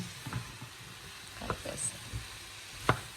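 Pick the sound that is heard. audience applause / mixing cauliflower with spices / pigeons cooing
mixing cauliflower with spices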